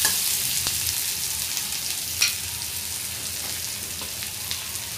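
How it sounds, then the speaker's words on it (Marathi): Okra stir-fried in a pan with onion and chilli over low heat gives a steady, close frying sizzle, with a few soft scrapes and taps of stirring and no talk. "तर आपण भेंडी व्यवस्थित परतून घेऊया आणि मंद आचेवर हिला"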